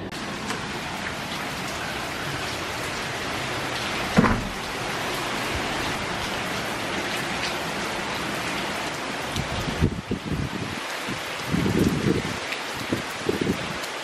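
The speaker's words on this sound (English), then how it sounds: "it is pouring outside." Heavy rain pours steadily outside, a dense continuous hiss with a few louder thumps and spatters along the way.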